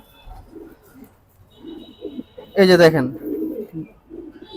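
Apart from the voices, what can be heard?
Jabra Pankhi pigeons cooing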